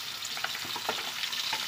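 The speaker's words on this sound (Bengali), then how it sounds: "ডিমগুলোকে লবণ আর হলুদ দিয়ে ভেজে নেবো।" Fish roe seasoned with salt and turmeric frying in hot oil in a wok, giving a close, continuous sizzle with small crackling pops and no voices.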